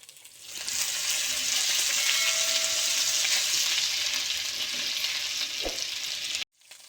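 Ginger garlic paste frying in a pan of hot oil gives a steady, loud, close sizzle that rises quickly and holds. There is a brief clink near the end before the sizzle cuts off.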